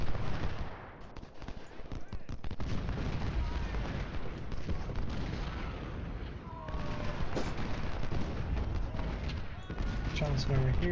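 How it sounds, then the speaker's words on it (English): Artillery fire in the Civil War strategy game Ultimate General: Civil War, booming cannon blasts and crackling musketry rolling continuously in the battle din, with someone talking steadily over it. "But Naggleton is getting hit pretty hard by this artillery over here."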